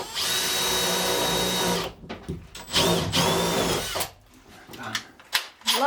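A power drill bores into the wooden roof of a boat, whining steadily for a couple of seconds, then stopping and restarting in short bursts amid clunks and handling noise.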